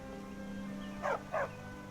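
A dog in the video game Skyrim gives two short, close barks in quick succession over a low, steady ambient game backdrop.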